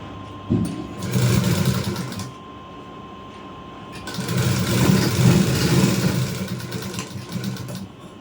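An electric sewing machine stitches lining around the neck of a Punjabi dress in two steady bursts of running motor hum, with a pause between them, close and moderately loud.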